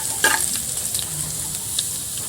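Garlic frying in a pan on a home stove for a Uttarakhand kapuli dish: a close, steady sizzle with a few light stirring scrapes, no talk.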